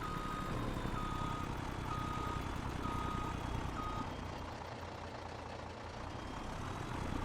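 A truck in Farming Simulator 22 backs up, its reversing alarm beeping at a steady rhythm over a low idling engine rumble, moderately loud and unbroken, with no voices.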